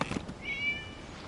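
A cat in a video game gives a single short, faint meow with a rising then falling pitch, brief and alone over quiet background.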